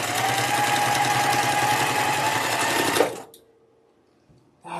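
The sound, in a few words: sewing machine stitching a straight line on a quilt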